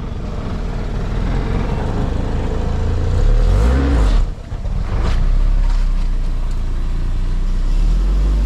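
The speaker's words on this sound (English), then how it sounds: "We got a slight exhaust leak." A car engine idles with a slight exhaust leak, a steady close rumble that swells briefly in a rev midway, dips for a moment, then settles back to an even idle, with no voices.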